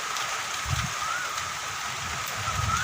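Dense, steady rainfall with a constant broadband hiss and patter, fairly close and continuous throughout.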